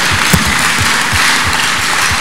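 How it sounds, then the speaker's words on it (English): A church congregation claps in a steady, rhythmic beat, loud and close, with no voices. "We clap for Jesus."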